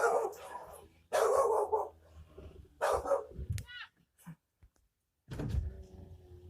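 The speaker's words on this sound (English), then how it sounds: "you better do something about that dog" A vicious dog barks in short, loud bursts near a house, with people talking in between and over the barks, and small knocks and a door-like sound heard in the gaps.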